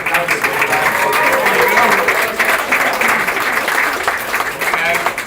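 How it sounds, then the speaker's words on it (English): An audience at a watch launch event applauds steadily, a dense wash of clapping that holds for several seconds. "big round of applause for Peter"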